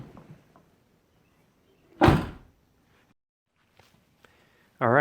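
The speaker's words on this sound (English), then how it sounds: "So I'm gonna put the door on just to check if all the gaps are correct." A Ford Mustang door under bodywork is fitted and swung shut, giving one loud, solid thunk near the middle, with faint clicks and handling noises before it and a short burst of voice at the end.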